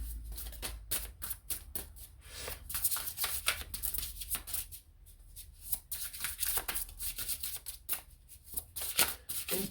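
Tarot cards are shuffled by hand, a close, quiet run of riffling and flicking bursts with soft card slaps, no talking.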